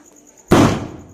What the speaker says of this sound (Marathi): हा ऋतूच्या फटाक्या वाजून झाल्या बिडी बॉम्बच आणलेत